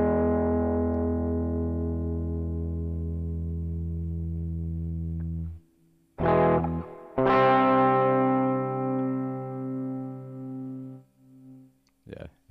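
An electric guitar played through a Zoom G1 multi-effects pedal sustains a thick, distorted chord, then after a gap rings out again and the tone is abruptly cut off, loud and close.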